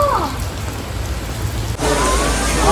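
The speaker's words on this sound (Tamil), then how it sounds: "வெளியில தான் மழை பெய்யுது" Heavy rain pours steadily outside in Vietnam, a loud, continuous hiss with no voices.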